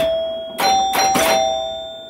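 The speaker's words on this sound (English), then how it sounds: "What do you guys think of that Chimes?" The chime box of a 1973 Williams Travel Time pinball machine strikes three loud, ringing chimes in quick succession, their bright tones sustaining and slowly decaying under a lingering hum.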